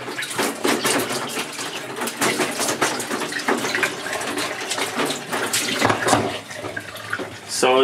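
Running water rinses a screen printing screen, producing a loud, continuous splashing wash with gurgling and spattering, while a person talks over it.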